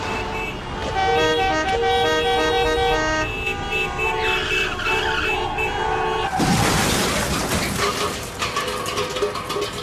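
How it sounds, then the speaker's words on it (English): Car horns honking in traffic, several overlapping toots and sustained blasts close by, followed by a harsh skidding burst, with engine noise underneath. "Horns make a pattern of sounds that we use to alert other drivers."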